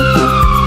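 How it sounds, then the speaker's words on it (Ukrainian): A loud wailing fire engine siren in a children's song, close and steady, fills the short moment with a strong sustained pitch. "гудуть сирени голосом гучним"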